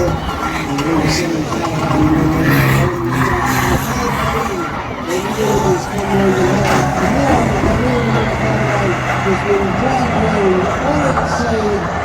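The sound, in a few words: banger racing car skidding into a caravan on track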